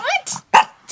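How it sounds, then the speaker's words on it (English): A dog barks in a few short, sharp bursts close by, with pauses between them and brief human voices mixed in. "That's some good barking right there, a little sparky."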